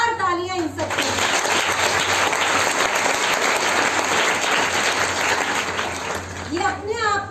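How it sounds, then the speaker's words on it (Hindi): Loud, dense applause from a large crowd at a voter-awareness event honouring participants, a sustained roar of clapping that swells in after a spoken line and fades out as speech resumes. "जोरदार तालियां इन सबके"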